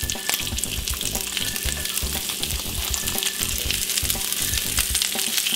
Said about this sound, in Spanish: Voy a poner a asar la cebolla de huevo que quede un poquito asadita.